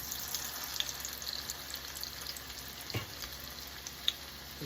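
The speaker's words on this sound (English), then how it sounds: "Our oil is starting to shimmer, and now we're going to add in our cakes. Nice and sizzly." Potato leek cakes sizzle in shimmering hot frying oil at just above medium heat, a steady soft crackling hiss with a few sharp pops, close and low in level.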